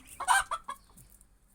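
Backyard hens give a short, close burst of clucks, a few quick throaty notes in a row that trail off into quiet, with no talking.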